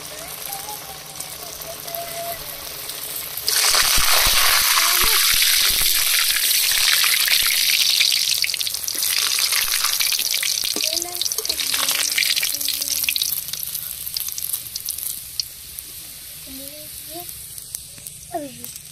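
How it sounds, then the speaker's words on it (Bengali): Turtle-shaped stuffed sweets drop into hot oil, setting off a sudden loud, steady sizzle and bubbling that carries on for many seconds, with faint voices and small clatters around it. "আর বাকি মিষ্টিগুলো সব ভেজে নেব"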